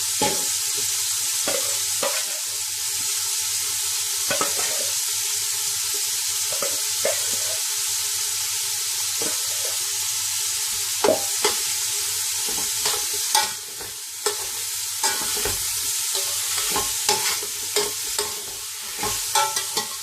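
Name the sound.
prawns frying in a pan for biryani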